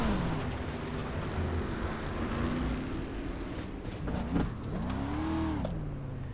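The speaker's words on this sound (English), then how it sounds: "You heard him just absolutely smack the gas and try to turn that car out of it." A race car engine, heard from a helmet camera on board, drones steadily and then surges in a sharp rev that rises and falls as the driver hits the throttle, loud and close over the wind rush.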